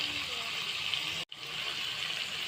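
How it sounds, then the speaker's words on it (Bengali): Water poured into a pan of spiced brinjal with turmeric, coriander and cumin powders, a steady close gush running unbroken except for one brief gap near the middle. "সামান্য এখানে আমি অল্প জল দিয়ে দিলাম"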